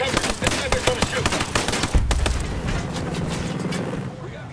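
Rapid bursts of gunfire crack in clusters, then a heavy blast followed by a fading roar, combat with a sniper in the video game Ghost Recon Breakpoint; voices are mixed in among the shots.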